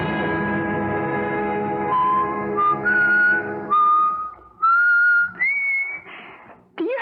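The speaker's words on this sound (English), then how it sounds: "Do you have to whistle like that all the time?" A person whistles a wandering tune alone, starting with a sustained tone and then breaking into short rising and falling phrases, close and clear against a quiet room.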